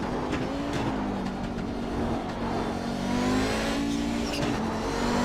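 An Audi 90 GTO race car engine in the iRacing sim at the Nürburgring drones steadily and loud, the tone sliding up slightly as it accelerates, with a faint whine over the engine note.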